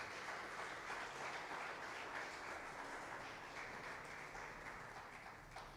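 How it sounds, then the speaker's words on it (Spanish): A church congregation gives a sustained round of applause as an offering of praise during a sermon, steady broadband clapping that fills the room throughout with no speech over it. "Dele una ofrenda de palmas al Señor."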